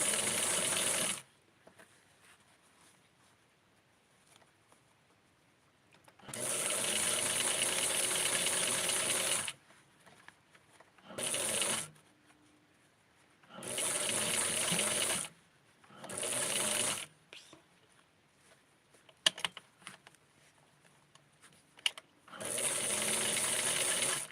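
Sewing machine stitching the elastic casing of a small doll's panty, running in several distinct bursts of steady whirring separated by quiet pauses, close and fairly loud.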